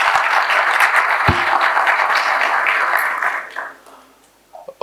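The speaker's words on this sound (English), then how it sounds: "let's give him a big round of applause for whatever enlightening thoughts that he has shared now" A symposium audience claps for a speaker in a loud, dense burst of applause that holds, then thins and fades out near the end, with a single sharp knock partway through.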